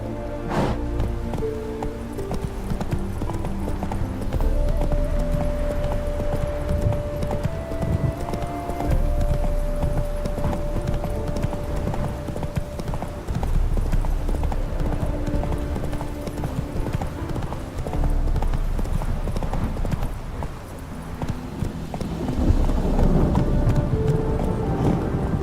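Roach, Geralt's horse in The Witcher 3: Hearts of Stone, gallops with steady, rapid hoofbeats for the whole stretch, close and loud over a bed of game music, with a brief snort or whinny near the start.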